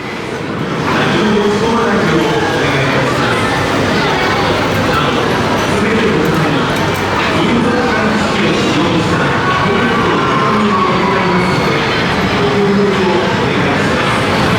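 A loud, continuous rolling rumble of a train runs throughout at a station at Universal Studios Japan, with a crowd murmuring in the background.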